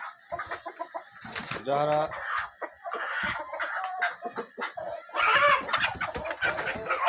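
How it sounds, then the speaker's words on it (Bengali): Adult Colombian light Brahma roosters and hens cluck and call nearby in short, irregular bursts, overlapping with a person talking. "মোরগ মুরগি"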